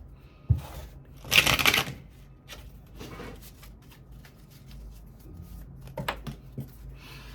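Tarot cards are shuffled in a quick, close riffling burst of about half a second, after a single tap. Scattered soft clicks and light card slaps follow as cards fall, over quiet room tone.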